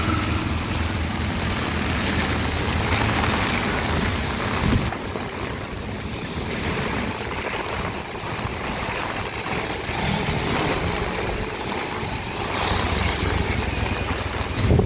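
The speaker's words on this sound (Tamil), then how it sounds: "நல்ல மழை கொட்டு கொண்டு இருக்குது." Heavy rain and storm wind blow at the Jaffna bus stand, a loud, constant roar of wind and downpour with gusts buffeting the microphone throughout.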